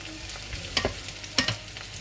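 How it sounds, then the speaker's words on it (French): Aubergines fry in oil in a pan with a soft steady sizzle, broken by two brief scraping stirs close by. "là, je vais mettre mes aubergines"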